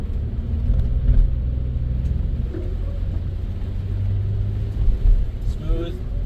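A 2020 Toyota Sienna SE minivan cruises on a road, giving a steady low engine and road rumble with mild surges, while someone talks over it.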